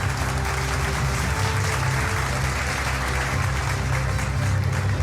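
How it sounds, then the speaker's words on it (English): Steady, dense applause from a large crowd at a banking technology conference awards ceremony, sustained and loud throughout with no break. "please encourage the winner with a round of applause"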